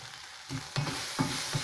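Spices for a tondekai masala curry, including chilli powder, turmeric and asafoetida, are stirred in a hot frying pan, a soft sizzle broken by a few quick scraping strokes over a brief moment, with no voices.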